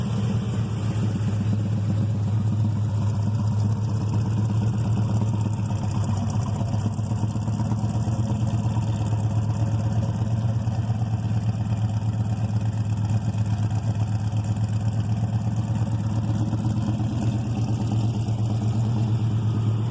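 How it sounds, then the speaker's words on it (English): Deep, loud exhaust burble from a 1971 Chevrolet C10 with a 402 big block V8, a steady close-up idle with a constant low throb and slight rhythmic lope throughout. "Take a listen to the exhaust."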